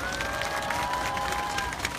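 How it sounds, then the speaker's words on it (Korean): A large outdoor rally crowd at a weekly street protest claps continuously in a thick, steady wash of applause, with a sustained tone running faintly over it. "길원옥 할머니한테 다시 한번 큰 박수 부탁드리고요"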